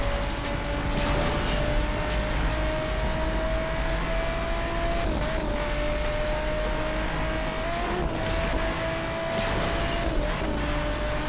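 A race car engine in the Asphalt 8 racing video game drones steadily throughout, a loud, continuous motor tone that rises and falls slightly in pitch, with no talking.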